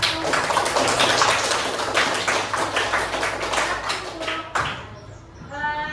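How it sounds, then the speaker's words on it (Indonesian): A class applauds a student group after its presentation in a classroom lesson, with a short burst of brisk clapping from a small group that stops abruptly, followed by a voice speaking. "Beri tepuk tangan ke kelompok 1"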